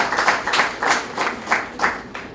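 An audience at a Rotary Club children's poetry recitation prize ceremony applauds the participating children, a steady burst of many hands clapping in waves, fairly loud and close, with no talking over it.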